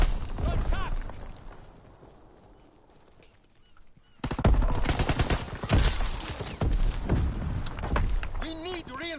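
Gunfire in a World War II hardcore deathmatch video game, a dense stretch of rapid automatic and single shots that starts abruptly after a quieter lull, loud and close, mixed with shouted voices.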